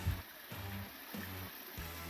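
Stony Brook, a rocky stream crossed by a bridge on the Appalachian Trail in Vermont, gives a soft, steady rush of flowing water under a low, intermittent rumble.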